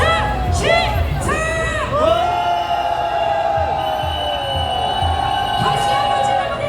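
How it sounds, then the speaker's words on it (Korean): A street rally crowd roars and cheers on cue in support of impeaching Yoon Suk-yeol, sustained shouting and whoops from many voices, loud and near, with a few higher voices rising and falling over the mass. "윤석열 탄핵을 향한 함성 한번 질러보겠습니다"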